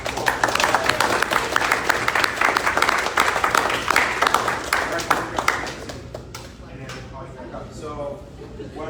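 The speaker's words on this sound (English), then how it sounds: "let's give the seniors a big round of applause" Seniors at a track and field awards ceremony get a big round of applause from the audience, dense and lively for several seconds before it dies down and a voice starts talking.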